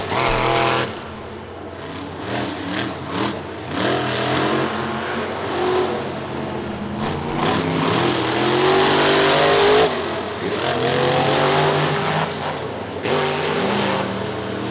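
Monster truck engine at Bristol Motor Speedway, revving and roaring loudly and continuously through a semifinal race run, pitch rising and falling as the truck accelerates and drifts around the track, with a steady crowd-and-arena wash beneath.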